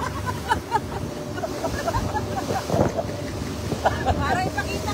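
Strong sea waves slosh and slap against a boat out on open water, a continuous churning rush buffeted by wind on the microphone, with voices calling out faintly now and then.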